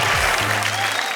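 Audience applause for a Hindi poem recited at a poetry show: a dense, steady wash of clapping from a crowd, loud and close, filling the whole short stretch without a break.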